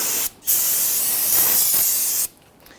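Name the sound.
spraying solvent on Ford Taurus brake caliper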